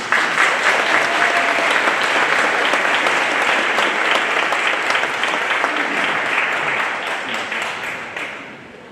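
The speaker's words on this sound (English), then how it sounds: "Let's give him a large round of applause, Mr. Howard Zemsky." A large graduation audience bursts into sustained applause for an introduced guest, dense and loud crowd clapping that holds steady for several seconds before tapering off at the end.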